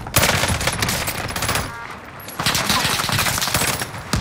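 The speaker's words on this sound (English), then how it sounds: "They're shooting at me!" Rapid automatic gunfire from enemies in a first-person shooter on a new map, dense bursts crackling almost continuously with a brief lull midway, loud and close, with a player's voice briefly heard.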